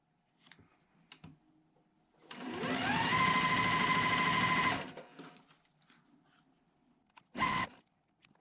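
A sewing machine stitches navy and white fabric pieces in a continuous chain, one steady run of fast whirring a couple of seconds long, close and clear, followed by a brief second burst.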